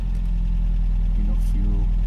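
An MG car engine running just after being started, a steady low idle hum close by, with a brief rise in pitch partway through.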